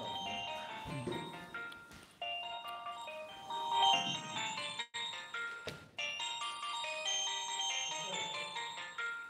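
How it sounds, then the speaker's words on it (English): A mobile phone rings with a repeating electronic melody during a religious talk, lasting several seconds with brief breaks, while a voice speaks over it. "On my phone, making noise."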